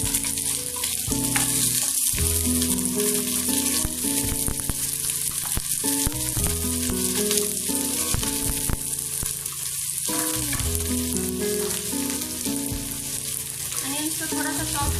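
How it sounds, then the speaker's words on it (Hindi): Onions frying in a pan while making masala bhindi with okra, a continuous crackling sizzle with occasional stirring clatter, close and steady. "अनियंस डाल देंगे."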